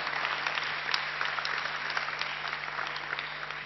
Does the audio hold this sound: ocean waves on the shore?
no